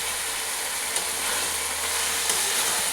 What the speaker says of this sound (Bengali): এবারে ভালো করে মশলাটা মিশিয়ে নিচ্ছি।